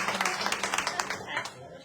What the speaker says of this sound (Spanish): Entonces le damos un aplauso a Gilberto